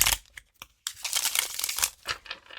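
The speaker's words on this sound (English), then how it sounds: "I'm going to shuffle like a US Games deck." A Chinese tarot card deck shuffled by hand, giving close, crisp riffling and slapping bursts of card stock with short pauses between them.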